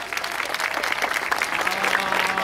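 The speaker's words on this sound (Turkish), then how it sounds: "Çok güçlü bir alkış alıyoruz tekrar." Strong audience applause at a Turkish stage event in Giresun, dense continuous clapping from a large crowd, loud and steady with no speech over it.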